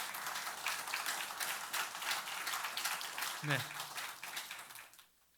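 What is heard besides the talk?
church congregation applauding to encourage the pastor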